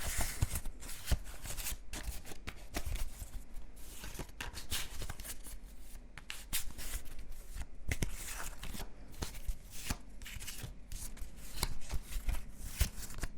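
Close, continuous shuffling of 7 Wonders board game card decks: crisp flicks and riffles repeating steadily for several seconds, no speech.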